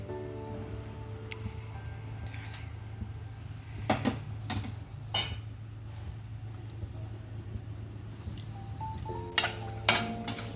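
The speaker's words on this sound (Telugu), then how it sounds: "బటర్లో ఇవన్నీ ఓల్ గరం మసాలా వేసి ఫ్రై కానివ్వాలండి" Whole garam masala spices frying in butter in a pan on the stove for dhaba-style Afghani egg kurma, with soft sizzling under a low hum, spoon clinks and scrapes against the pan, louder near the end.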